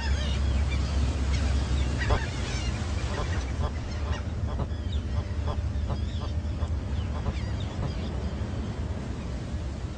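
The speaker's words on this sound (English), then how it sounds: "an abrupt toss of the head accompanied by a grunting sound" A seabird gives short, honking grunts during a head-flicking social display, a series of faint, scattered calls over a steady background hiss.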